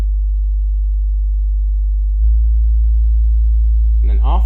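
A loud, steady low hum of a pure sine test tone through a REL T9x subwoofer that steps up slightly in pitch around 50 hertz, with a voice starting to speak at the end.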